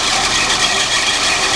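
A 1972 Lincoln Continental engine idles slowly after a cold start, giving a steady, loud, continuous rumble with broadband hiss and no clear gaps.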